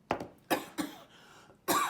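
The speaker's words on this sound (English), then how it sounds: "Didn't mean to be coughing there." A person coughs several times in close, abrupt bursts, with short gaps between the harsh coughs.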